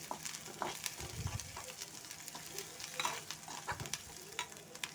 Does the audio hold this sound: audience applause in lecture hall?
no